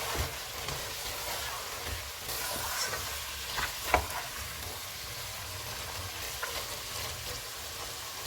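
Beef pieces frying with cumin powder, coriander powder, salt and crushed red chilli, a faint continuous sizzle with light scraping from stirring and one brief clink.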